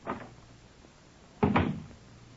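A door creaks and clunks open in a 1951 British radio drama set at Scotland Yard's Black Museum: a soft knock-like tap, then a louder wooden rattle and swing, close and fairly quiet.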